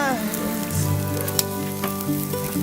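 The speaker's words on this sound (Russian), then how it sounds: "Что мы жарим? Мы жарим колбаски." Sausages fry over a village campfire with a steady, crackling sizzle, heard under tonal music that plays throughout.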